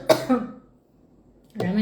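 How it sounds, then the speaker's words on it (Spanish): A person giving a Bible study lets out a short burst of coughing, two or three rough, close coughs, then a pause before another throaty cough. "ahora me entró una tos"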